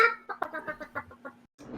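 Chicken clucking in a short run of rhythmic, fairly close clucks with a steady tone beneath, breaking off briefly before a final faint sound, no talk.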